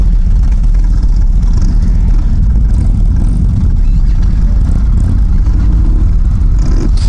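A 2019 Indian FTR 1200 S motorcycle heard up close, its engine a loud, steady low rumble with constant buffeting throughout and a few brief higher rasps.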